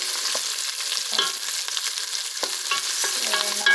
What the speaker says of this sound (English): the ground beef is already marinated with salt and pepper, and now we're frying that one